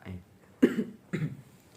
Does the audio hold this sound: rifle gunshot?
no